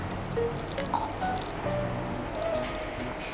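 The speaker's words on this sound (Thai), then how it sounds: "นี่ก็คือ ดักแด้ของน้อง ที่น้องถอดทิ้งไว้ ว้าว กรอบนะเนี่ยดูดิ" A crisp, empty butterfly chrysalis shell being crushed up close: soft, dry crackling and crinkling that stays faint and even over a few seconds, with no talking.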